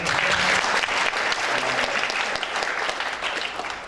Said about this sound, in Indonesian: sekali lagi tepuk tangan buat Samuel dong